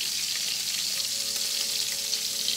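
A pork chop searing in butter in a pan gives a steady, close, crackling hiss of frying without pause.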